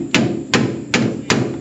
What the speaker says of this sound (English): you want me to tap the bolt?